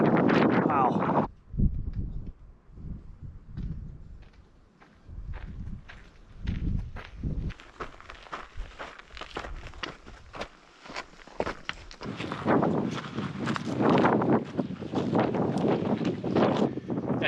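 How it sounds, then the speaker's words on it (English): Gusts of wind buffet the microphone in loud rumbling bursts on a Mojave Desert trail, easing off in the middle, with footsteps and a person talking in between. "It's so windy today."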